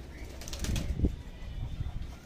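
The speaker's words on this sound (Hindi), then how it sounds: "ये भी झाड़ कर रहे हैं अभी, ये पंख हैं इसके" A high flyer pigeon shakes out its feathers and flaps its wings nearby, making a brief, soft burst of fluttering that peaks around one second over faint background noise.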